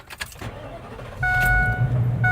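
An RV motorhome engine cranks and catches, then settles into a steady idle with a faint electronic chime tone, close and alone without talk.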